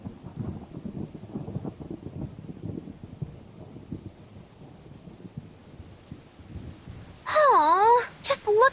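In Tales of Berseria, a rainy thunderstorm rolls in with low, rumbling thunder and a steady wash of rain, followed by a loud, warbling tonal swell near the end.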